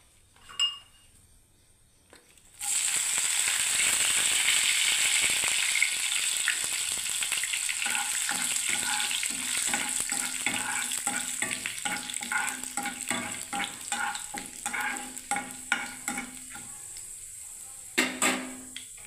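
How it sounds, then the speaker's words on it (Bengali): Curry leaves hit hot oil with a sudden loud hiss, then sizzle and crackle steadily for over fifteen seconds, with clinks of a utensil against the pan toward the end. "এবারে প্রথমে আমি বন্ধুরা দেখুন কারি পাতাটাকে ভেজে নিচ্ছি।"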